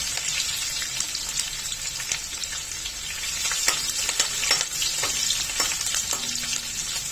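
Crushed garlic and green chillies sizzle and fry in hot oil, a steady close crackling hiss with occasional stirring scrapes, no talking.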